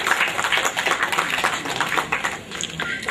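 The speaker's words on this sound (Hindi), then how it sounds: "जोरदार तालियां बजाने कि किसी का सम्मान हो रहा है" Applause from an audience at a public stage event honouring a social worker, a dense, continuous patter of many hands clapping at moderate volume for the whole stretch.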